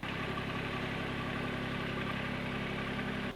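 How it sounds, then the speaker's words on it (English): A tractor engine runs with a steady, dense mechanical drone, constant and fairly close throughout, with no voices. "But I'm gonna get the tractor fired up"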